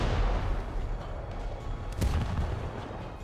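A tank cannon fires an APHE shell in War Thunder, a single heavy boom about two-thirds of the way through, set against a dense rumbling battlefield din.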